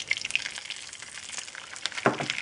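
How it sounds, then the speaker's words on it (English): Cold water poured into a hot pan of browned butter sizzles and spatters, with a steady hiss of frying and a sharper burst of bubbling near the end. "Now I'm going to add some cold water. It will sizzle."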